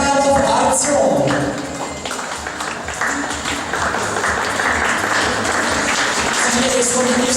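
Enthusiastic applause from an audience in a hall at a school award ceremony, sustained crowd clapping for several seconds with background voices mixed in.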